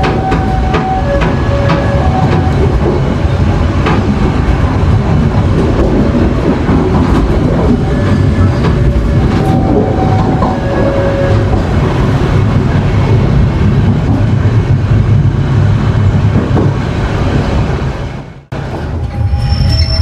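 The KA Serayu passenger train rolls through a junction toward Purwakarta, a loud, continuous rumble of wheels on rails with rhythmic clatter and occasional squeal, heard from inside the carriage.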